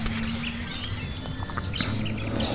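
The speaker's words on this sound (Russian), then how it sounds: "Птички поют." Birds sing outdoors at a roadside tent camp on a solo bicycle trip, several small chirps and tweets scattered over a steady background hum, fairly close and clear.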